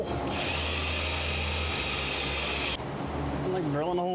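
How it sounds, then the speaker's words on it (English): A power drill bores holes into the dash of a 1952 Ford truck, a steady whine that runs for a few seconds, stops, then starts again. Background noise and a voice are also audible. "I'm like drilling holes in a 70-year-old"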